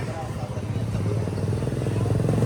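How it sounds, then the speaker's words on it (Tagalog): Motorcycles ride along Carriedo, a busy Manila shopping street, their mid-pitched engines rumbling steadily near and loud throughout, with people talking under the engine noise. "So maging yung mga nakamotor, no? malayang nakakadaan."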